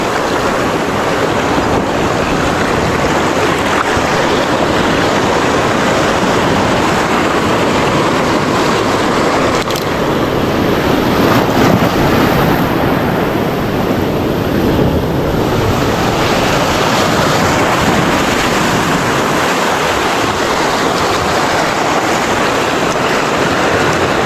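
Rough sea surges and washes constantly around a small fishing boat, a loud unbroken roar of waves mixed with wind buffeting the microphone.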